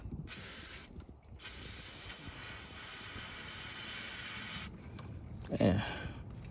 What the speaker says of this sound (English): gonna use a little of this brake cleaner to